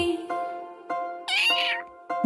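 A cat meows once in a high, wavering cry over a steady tonal musical backing with soft rhythmic beats.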